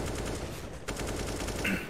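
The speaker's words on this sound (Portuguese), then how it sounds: "disparos até a base CT, não conectam pra cima de ninguém" Gunfire in a Counter-Strike match on the Ancient map at a pro league event, dense bursts of shots running steadily through the whole moment at moderate loudness with game ambience beneath.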